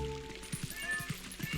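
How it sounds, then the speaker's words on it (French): A cat meows in The Legend of Zelda: Twilight Princess, several short close mews over soft game music and ambience, with a voice speaking alongside. "Ah, attends, y'a un chat."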